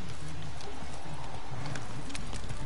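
A horse gallops in The Witcher 3, its hoofbeats drumming steadily under a loud, constant game soundscape, with a faint whinny in the mix.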